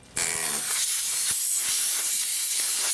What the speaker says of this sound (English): I was watching my tire deflate and it just didn't seem right.